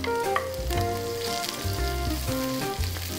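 Ginger frying in a pan with onions and garlic, a steady close sizzle and crackle with a few light stirring scrapes, no voices.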